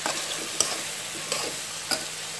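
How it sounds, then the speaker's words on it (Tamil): Squid fries in a pan as ginger garlic paste is stirred in, with a constant sizzle and three distinct scrapes of a spoon at regular intervals. "இந்த வறுவலில் வந்து நம்ம இஞ்சி பூண்டு பேஸ்ட் அது இப்போதான் போட்டு நல்லா கிண்டிக்கணும்"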